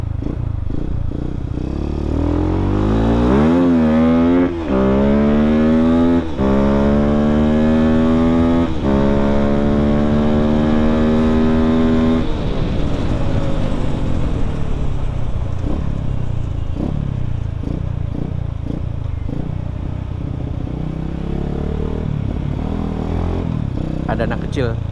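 A modified Yamaha Vixion set up as a supermoto gives several sharp rising revs in a row, each climbing in pitch and then dropping back, before settling into a rough, clattering idle; close and loud.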